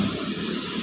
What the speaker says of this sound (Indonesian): ini kita semprot cat warna biru metaliknya.